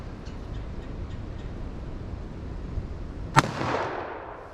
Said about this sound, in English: Totally pulled that shot